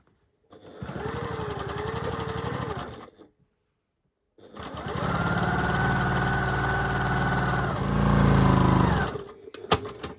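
A sewing machine stitches a quilt block seam in two steady runs separated by a short pause, its motor whirring close and loud with no talk over it.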